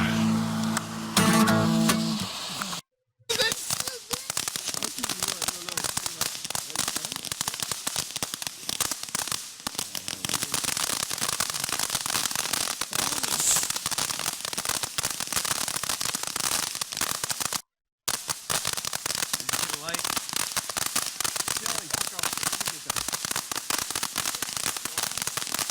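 A cheap consumer firework bursts and then crackles in a dense, continuous hiss of pops for over twenty seconds, broken by two brief silent gaps, loud and close.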